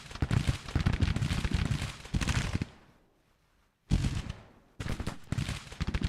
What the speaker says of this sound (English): we got 2 or 3 regiments firing into them